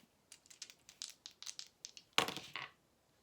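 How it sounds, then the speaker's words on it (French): Dice rolled by hand during a tarot-style reading, a quiet series of rapid clicking rattles followed by a louder clattering tumble and settle, close up with no talk. "Alors, on va prendre les dés."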